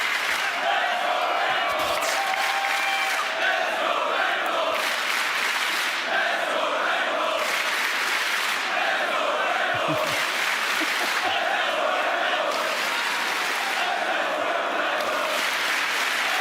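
A large live audience at a Rainbow Six Siege reveal panel cheers and applauds steadily, a dense roar of clapping and shouting that keeps going with rhythmic surges of chanting.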